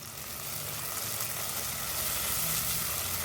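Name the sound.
tomatoes and onions sautéing in a pan for mutton curry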